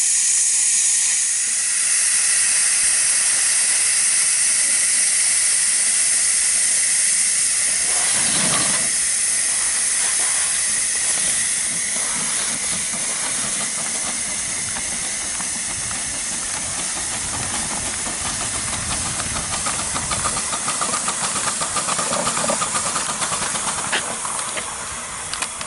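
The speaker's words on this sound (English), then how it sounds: "slowly turn the steam valve on, and the injector will pick up. You'll hear it make a sort of chirruping noise" A live steam injector feeds the boiler of a 7.25 inch gauge GWR 14xx locomotive, producing a loud, continuous close-up steam hiss that runs steadily throughout with faint fluttering chirrups and no voices.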